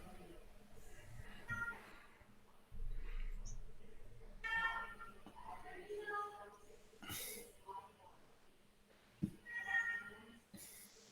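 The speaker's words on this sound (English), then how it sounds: "I hear a meow." A house cat meows several times in the background of a livestreamed poker match, the calls mixing with soft breathing and snorts while hosts talk.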